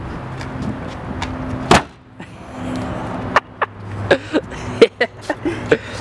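Door of a custom JDM-fitted used police car is worked open and shut, with a heavy slam followed by a series of sharp clunks and rattles of the latch and panel, close by.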